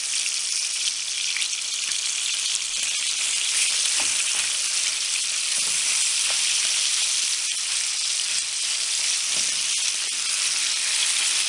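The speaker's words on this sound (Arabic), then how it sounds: "في مقله غادي ندير شويه ديال الزيت تسخن وغادي ندير الصوصيص اللي عندي، غادي نخليه حتى يتشحر مزيان" Sausages frying in hot oil in a pan, giving a dense, continuous hiss and crackle that stays loud and close from start to finish, with no voices.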